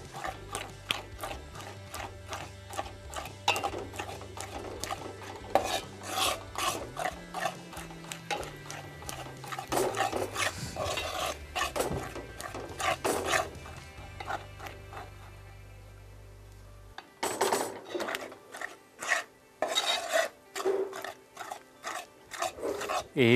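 Sajja (pearl millet) halwa stirred in a pan, with repeated scraping and clicking strokes of a utensil against the pan, steady and close, broken by a brief pause before the stirring resumes.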